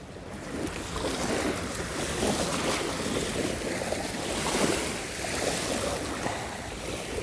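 Waves on a Lake Huron beach, a soft steady wash of surf rolling in and receding, mixed with light wind buffeting the microphone, continuous and moderately quiet with no voices.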